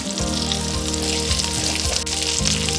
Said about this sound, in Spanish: empezamos a freír esto hasta que estos estén dorados.